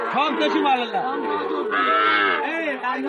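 Cattle at a cattle market in Joypurhat where local and Sahiwal heifer calves are sold, with close, loud, drawn-out moos from more than one animal over a murmur of crowd chatter.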